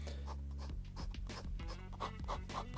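A fountain pen nib, a vintage Sager Transparo, scratches lightly across paper in short repeated cross strokes, a close, soft dry scratching with a steady rhythm and a low hum underneath.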